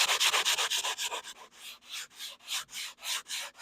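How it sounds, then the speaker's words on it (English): Rhythmic scratchy sanding strokes on furniture painted with thick lime paint, brisk and close at first, then slower and more spaced back-and-forth rubs, with no talking. "let's give it a little sanding."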